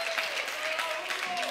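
A studio show audience applauds, a fairly faint wash of clapping that continues steadily for a moment with some crowd murmur and voices underneath.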